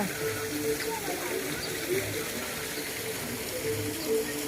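Water running in a forest stream, a steady moderate gurgling rush with soft low surges, heard with someone talking quietly over it.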